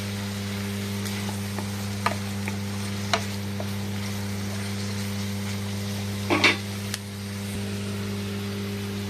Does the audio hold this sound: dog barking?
no